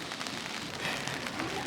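Rain falls outside a cafe in Kyoto as a steady, dense hiss of drops on surfaces, constant and moderately loud throughout with no talk.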